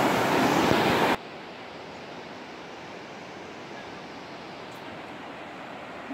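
The Wallowa River rushes past with a strong current, a loud close wash of noise at first, then a steady, softer continuous roar.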